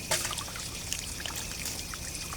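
Water is poured into a pot while cooking catfish tom yum with roe, a close, steady trickling and splashing pour lasting a couple of seconds with no talking.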